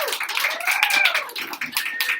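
An audience at a Halloween poetry reading applauds a poet, with a dense patter of clapping that holds steady throughout, under a high ringing tone and some voices.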